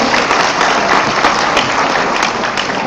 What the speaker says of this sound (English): Give yourselves a round of applause for being here right now this morning.